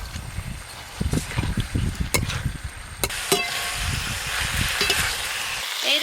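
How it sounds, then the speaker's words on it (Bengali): Fried cauliflower stirred into a coriander-leaf masala in a pan, with a close, continuous sizzle broken by irregular scraping and stirring clatter and a couple of sharp utensil knocks. "ওপর দিয়ে ভেজে রাখা ফুলকপি দিয়ে দেবো।"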